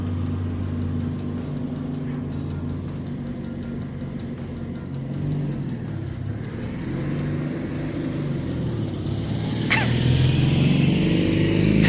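A Mini car drives past in a TV scene, its steady engine rumble holding low and then swelling louder with a brief whoosh near the end. No voices are heard.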